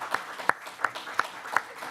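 A crowd at a school board meeting claps for the board, with sharp, separate claps landing in a slow, steady rhythm over a low murmur of the room.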